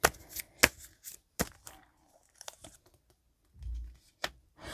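Tarot cards being shuffled: sharp riffling bursts and quick flicks come in irregular clusters, with a soft low rustle between them, all close by and without any speech.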